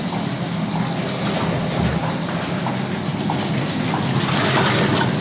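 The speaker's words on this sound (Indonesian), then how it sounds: "jalankan lagi mesin" A soybean washing machine for tempeh runs continuously with water churning inside, a loud, dense mechanical rumble and sloshing that holds steady throughout.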